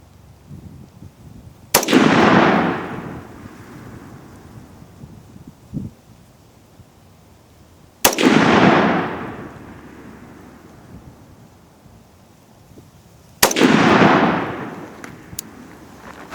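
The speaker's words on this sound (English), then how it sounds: "I'm not really taking any time between shots" Three loud, sharp rifle reports from a DPMS Sportical .308 battle rifle ring out several seconds apart, each followed by a long rolling echo outdoors, with light wind noise between shots.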